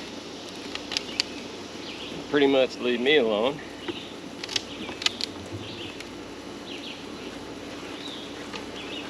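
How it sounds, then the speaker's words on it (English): Honey bees buzz in a steady, dense hum around an open hive cover during a summer inspection after light smoking, with a nearby voice talking over the swarm. "A lot of bees on this cover"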